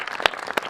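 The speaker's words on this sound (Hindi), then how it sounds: "आपकी तालियां अनवरत रहनी चाहिए" Audience at a stage theatre performance claps, with two sharp bursts of applause standing out over a brief, steady patter of hands.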